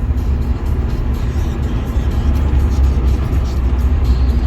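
Steady low road rumble of a car driving on a highway from Volgograd toward Moscow, a continuous close engine and tyre drone with no talk.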